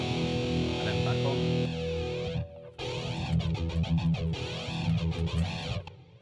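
Electric guitar with a chorus effect plays a sustained, shimmering phrase, briefly cutting out before resuming with warbling modulation, loud and alone.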